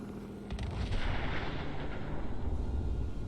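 Bombing explosions in Fallout 4 come as a dense, continuous rumble of blasts and booms that swell in loudness after the first half second and then hold steady.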